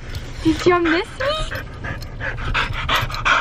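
Excited dogs pant and whimper close by, with quick breathy huffs and high yips, while a woman greets them in an affectionate voice over the top.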